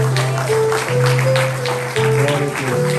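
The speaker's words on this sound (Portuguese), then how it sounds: "Vamos aplaudir o Senhor." A church congregation applauds in steady, continuous clapping, with sustained musical tones ringing beneath the applause throughout.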